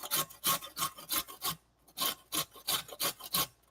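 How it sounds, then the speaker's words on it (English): Carrot grated on a metal box grater, a series of rhythmic rasping strokes, about a dozen scrapes with a short pause midway, close and clear with no talking. "Just cut the top off of a carrot and then grate it just like this."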